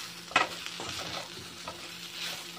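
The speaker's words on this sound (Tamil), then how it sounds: "இது லைட்டாக ஒரு பெரட்டு பெரட்டிக்கலாம்" A spoon scrapes and stirs through spices sizzling in a pan for sambar, with one sharp clink near the start and soft frying crackle throughout.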